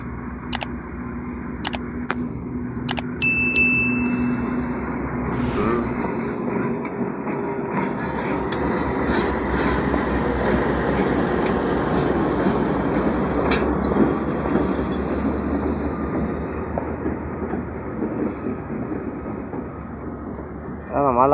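Old locomotives rumble through the Tabalaopa rail yard in Chihuahua, a steady loud drone of engines and rolling wagons with clattering wheels, a few sharp clicks early on, and a voice talking over it.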